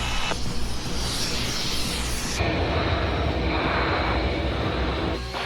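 Saab JAS-39 Gripen jet roaring loudly and steadily throughout, a broad sustained engine rumble with a shift in tone partway through, heard alone with no talk.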